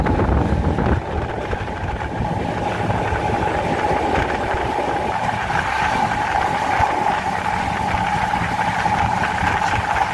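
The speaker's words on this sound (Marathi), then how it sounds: "चला, आपली ट्रेन पण निघेल आता." Mandavi Express waiting at Panvel station just before departure gives off a steady, low engine rumble and hum that holds at an even level throughout.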